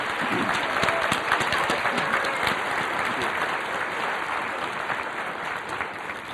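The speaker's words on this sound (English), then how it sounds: "Let's give them a round of applause for giving in the holiday spirit." An audience at a high school choir winter concert claps steadily and energetically, a dense wash of applause that holds strong and tapers slightly toward the end.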